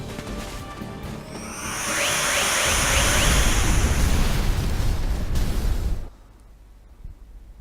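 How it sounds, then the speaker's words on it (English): A large explosion in the video game Star Ocean 5, a loud sustained roaring blast with broadband rumble that swells after about two seconds, holds for several seconds, then cuts off to quiet ambience. "Explodiu"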